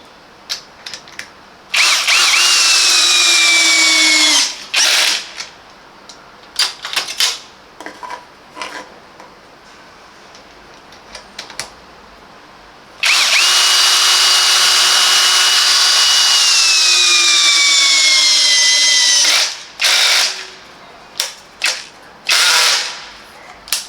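A Parkside Performance 20V cordless drill driver, PBSAP 20-Li A1, spins up in two long loud whining runs with rising and falling motor pitch, separated by short clicking bursts of trigger and chuck noise.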